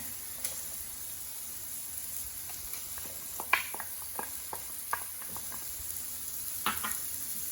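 Shrimp and diced garlic sizzle in a hot pan, a soft steady hiss broken by scattered crackles and pops, close and fairly quiet.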